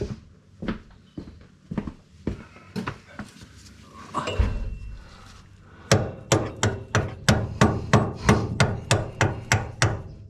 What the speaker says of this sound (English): Just give that a tap with the old hammer.